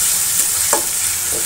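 Cumin and garlic paste frying with onion in a pan for a fish roe dish, a loud, close, steady sizzle with brief stirring scrapes of a spatula and no voices.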